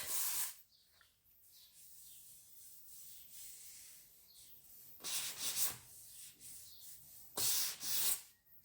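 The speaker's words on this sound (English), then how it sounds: "just give it a bit of a light sand to get rid of that" A painted bedside drawer edge gets a light hand sanding, with soft, close rubbing strokes and louder, brisker bursts of scratching at intervals.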